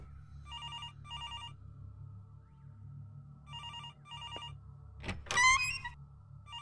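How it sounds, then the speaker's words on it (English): Old-style telephone bell in the horror video game Araya, ringing in two paired bursts of trilling rings, close and clear over a low ambient rumble, followed by a sudden loud creak-like sting. "Oh, come on, another phone."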